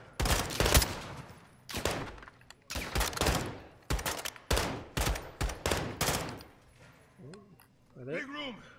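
Repeated loud bursts of rapid gunfire in Call of Duty: Modern Warfare II, coming in short clustered volleys with brief pauses between, followed by a voice speaking near the end.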